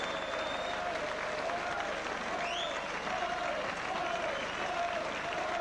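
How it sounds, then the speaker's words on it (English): A rugby league crowd at a St Helens match roars and applauds in a sustained, distant wash of cheering, with faint voices and whistles scattered through it. "Cheers from the Saints crowd of Boyo as Stuart Evans come off"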